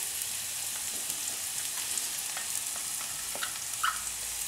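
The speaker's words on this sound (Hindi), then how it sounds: "अब हम इसमें अनियन डालेंगे और इसमें हम जिंजर गार्लिक भी डाल देते हैं" Onions, ginger and garlic frying in a pan over medium heat, a steady soft sizzle with faint scattered crackles and pops running throughout, close and fairly quiet.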